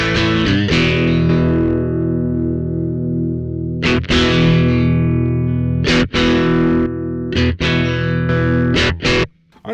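Electric guitar played through a Behringer PB100 preamp booster with the bass turned down gives sustained distorted chords with a chorus-like shimmer, several sharp new strums, and loud, continuous playing with no talk.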